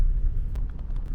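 A Vauxhall Insignia car engine runs at idle, a steady, close, low rumble with slight fluttering and no voices.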